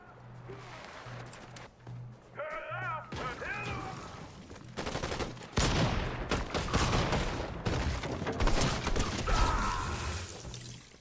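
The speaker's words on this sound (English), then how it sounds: "That's just so many guns" Dense, loud bursts of rapid gunfire from many weapons in a shooting video game, crackling in clusters with a steady electronic hum beneath and brief tonal game effects early on.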